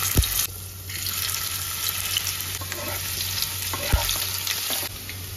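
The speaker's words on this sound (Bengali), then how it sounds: "এবার আমি এটাকে একটু ভেজে নেব।" Steamed potato pieces fry in hot oil in a pan with a steady, close sizzle, plus a couple of sharp clinks of a utensil against the pan near the start and middle.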